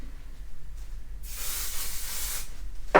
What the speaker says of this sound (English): So I'm gonna be spraying this. I always use spray.